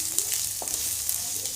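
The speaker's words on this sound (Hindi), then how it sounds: "अब लहसुन फ्राई करेंगे।" Garlic frying in hot oil with Kashmiri mustard seeds while cooking karela, a steady close sizzle with faint pops and a brief stir, no talking.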